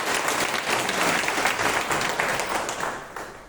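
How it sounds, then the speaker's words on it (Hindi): An audience at a meeting applauds loudly and without a break, the crowded clapping holding steady throughout before easing slightly at the close. "एक बार जो है इनके सम्मान में जो है जोरदार तालियां"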